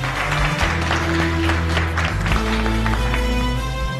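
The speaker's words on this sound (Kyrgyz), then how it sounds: "Анда эмесе кол чабуулар" Applause from a group gathered at an event, steady clapping heard under a sustained low hum of music or tones, with no talk over it.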